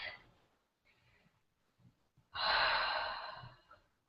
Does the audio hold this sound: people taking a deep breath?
yes